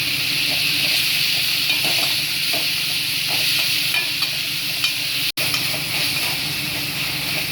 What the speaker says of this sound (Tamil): தக்காளி வெங்காயம் வதங்கிடுச்சு.